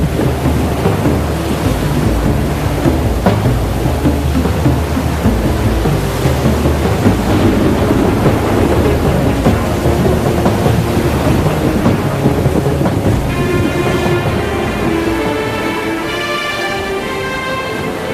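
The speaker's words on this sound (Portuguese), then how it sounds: "No meio do mar, surgiu uma grande tempestade que quase afundou o barco." A heavy storm at sea with thunder and rain, a dense, loud roar of wind, rain and surf that runs on steadily, then eases slightly near the end as a faint tonal hum enters.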